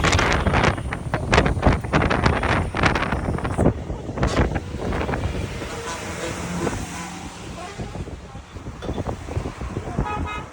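Strong gusting wind in Idukki district buffets the microphone in loud, rumbling bursts, easing off partway through to a steadier outdoor whoosh.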